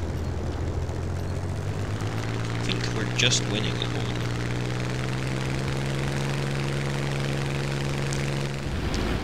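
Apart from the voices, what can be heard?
Hawker Hurricane fighter plane engine in the video game War Thunder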